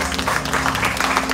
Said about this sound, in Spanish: Le aplauso a Cristo, hermano